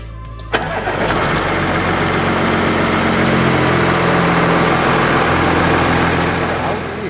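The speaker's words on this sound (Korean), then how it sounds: "이제 엔진 소리 한번 들어보고 영상 마무리하도록 하겠습니다" An Audi A6 50 TDI quattro diesel engine cranks and catches with a sharp start, then settles into a loud, steady rumbling idle up close.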